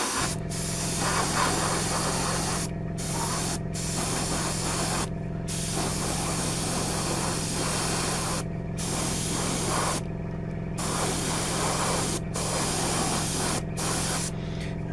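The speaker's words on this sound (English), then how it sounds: "just very gently, just give everything a quick mist coat" Aerosol spray paint hisses in steady bursts as a light mist coat goes onto Tamiya 1/12 scale Yamaha YZR-M1 model kit parts, close and continuous with several brief pauses between passes.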